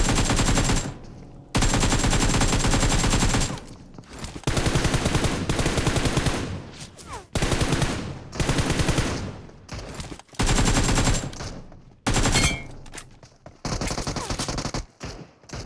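Long bursts of rapid automatic gunfire in a shooter video game, loud and close, firing in several sustained volleys separated by short silent gaps.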